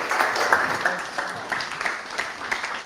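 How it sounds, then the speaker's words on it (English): Audience applause at a one-day creative festival talk, a steady wash of clapping from a seated crowd lasting a few seconds with faint voices beneath. "Another big round of applause for Max then,"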